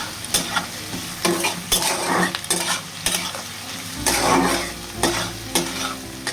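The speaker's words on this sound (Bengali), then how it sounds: "আমি কিন্তু ওখানে পেঁয়াজ কুচি প্রথমে ফোড়নে দিয়েছি, একটা তেজপাতা," Chopped onion and a bay leaf fry in hot white oil in a kadai, a close, crackling sizzle broken by repeated scraping strokes of a spatula stirring the pan, with no talking.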